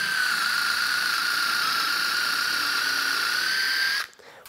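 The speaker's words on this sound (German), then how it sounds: "Und die kann ich einfach direkt hier vorne reinstecken und schon kann ich bohren." A small power tool fitted with a hex-shank drill bit bores a hole with a steady, high whine held evenly for about four seconds before it abruptly stops.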